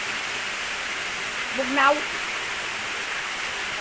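Cold natural waterfall at San Sebastian, a steady broadband rush of falling water filling the scene throughout, with a brief spoken word rising over it midway.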